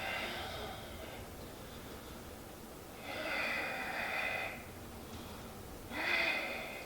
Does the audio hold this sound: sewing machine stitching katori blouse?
no